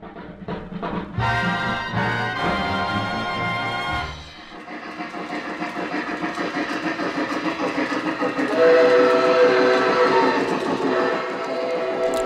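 Lionel O gauge Union Pacific 844 model steam locomotive, with a sustained whistle-like tone at the start, followed by steady running rumble and rhythmic chuffing that grows louder and closer toward the end.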